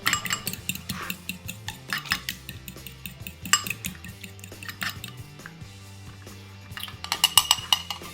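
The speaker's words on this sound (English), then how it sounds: "get that yolk broken up" Eggs whisked in a bowl to break up the yolk for a bacon meatloaf, a rapid, close, irregular metallic clinking and tapping against the dish.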